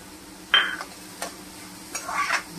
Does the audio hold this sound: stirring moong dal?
yes